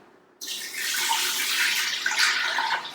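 Water pours steadily into a pot set up for pressure cooking a Christmas pudding on a trivet, a close, continuous splashing stream that starts abruptly and runs to the end with no talk.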